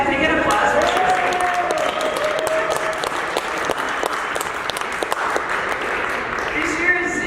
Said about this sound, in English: Can I get an applause for Stacy?